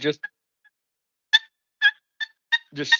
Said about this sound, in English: That doesn't sound like the greatest cluck in the world